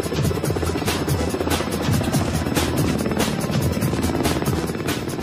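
A Ka-52 Alligator two-seat attack helicopter roars steadily nearby, its rotor beating in a fast rhythmic thump over a loud turbine whine, with no gaps for the whole stretch.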